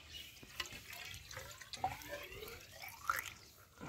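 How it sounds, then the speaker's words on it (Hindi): Water running into a drum at a house construction site, a faint steady splashing and trickling with scattered drips, heard alone without talk. "चलिए इसके ऊपर भरते हैं पानी, देखते हैं कितना लेता है ये"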